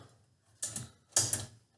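Two short bursts of a screwdriver working screws while a ceiling fan is installed, each a quick scraping, ratcheting turn, close and moderately quiet, separated by brief pauses.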